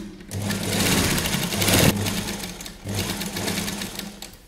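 Sewing machine stitching the sleeve seam of a kurti, running in two loud continuous bursts of rapid needle chatter with a short pause between them, close up and alone.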